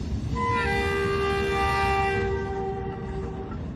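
A Chinese railway train rumbles steadily along its track while a long, loud horn blast sounds, holding as a sustained multi-tone wail for several seconds before fading slightly.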